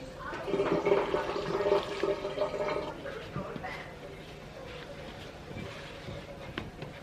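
Warm water poured steadily into a bowl on a kitchen scale for a loaf of bread dough, a loud splashing run for about three seconds that then settles into quieter trickles, with a voice talking over it.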